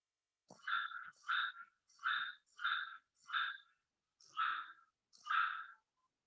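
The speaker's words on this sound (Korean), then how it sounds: "수컷 개구리가 울음주머니를 불룩거리면서 우는데요" Seven croaks of a male frog, calling with its vocal sac puffing, played back from a children's sound book: raspy bursts repeated at a steady pace, clear and close, with no talking.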